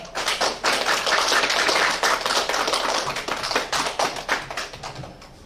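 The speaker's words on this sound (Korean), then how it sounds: "우리 피그림의 박수로 크게 환영하고 또 맞이하겠습니다." A church congregation claps to welcome a visiting missionary pastor at a Sunday service, with loud, dense applause filling the room that slowly thins and fades toward the end.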